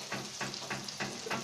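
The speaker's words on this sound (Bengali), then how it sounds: "আমরা চিকেন গুলোকে এপিট ওপিট করে ই করে নিচ্ছি, ভেজে নিচ্ছি" Chicken steak frying in oil in a pan, a steady sizzle with soft rhythmic stirring or turning sounds every few tenths of a second, close and fairly quiet, no talking.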